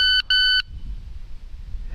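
A handgun shot timer set to a 0.40 second par time gives two sharp, loud electronic beeps, the second following the first less than half a second later, then low room quiet.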